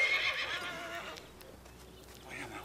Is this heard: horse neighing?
yes